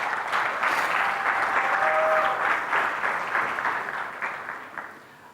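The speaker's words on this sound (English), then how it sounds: "so you can applaud once again the organizers" Conference audience at Rockit 2016 applauding the organizers, a dense burst of clapping from a seated crowd that holds steady for a few seconds and then thins out and fades, with no voices over it.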